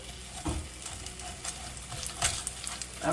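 Salmon fillet frying in its own rendered oil with no added oil, giving a constant close sizzle and crackle with occasional stirring scrapes in the pan.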